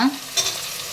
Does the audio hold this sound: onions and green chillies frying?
yes